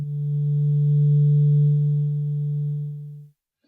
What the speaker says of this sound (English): Like we have the sine wave, which is this one.